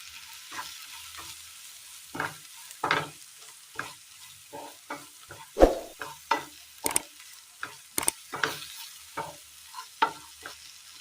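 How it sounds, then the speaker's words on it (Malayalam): Meat masala, coriander, turmeric, chilli and fennel powders fry in a pan for a tender coconut curry, with repeated scraping stirs and soft sizzling in an irregular rhythm, close and clear with no talking. "പൊടികളെല്ലാം നല്ലതുപോലെ മൂത്ത് കഴിഞ്ഞാൽ എല്ലാം കൂടെ ഒന്ന് മിക്സ് ചെയ്തെടുക്കാം."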